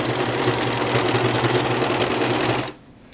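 A sewing machine runs steadily as it stitches a zigzag along the edge of a cloth pad, a loud continuous mechanical whir that stops abruptly near the end.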